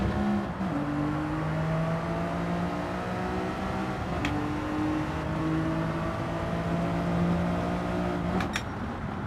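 A car drifting in the Gran Turismo 7 racing game, its engine holding a steady droning whine that shifts pitch as it revs between gears, constant and close, with no talk heard.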